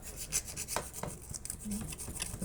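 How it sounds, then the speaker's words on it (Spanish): A part of a Singer sewing machine is rubbed with sandpaper in quick, repeated rasping strokes, close and fairly quiet, with no talk over it. "con una lija le voy a lijar esta área por abajo y aquí enfrente también"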